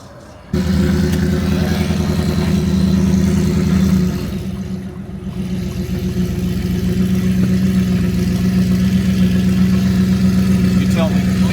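A supercharged Whipple Ford F150 engine running loud and close with a steady drone, briefly easing off midway before building back up, with a low rumble throughout and no talk.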